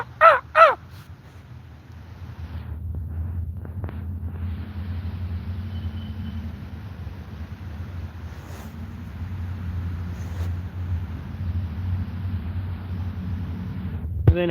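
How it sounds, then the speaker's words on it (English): Two loud, close crow caws open the sequence, followed by a long stretch of low traffic rumble and hum, with another faint caw at the very end. "But that's how the crows talk. And they make like a noise."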